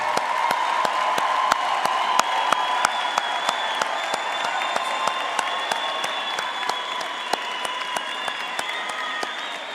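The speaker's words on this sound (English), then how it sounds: "Now I think we can all give our graduates a hand of applause." A university graduation ceremony audience applauds steadily, with sharp individual claps standing out over a sustained wash of clapping that holds for the whole stretch.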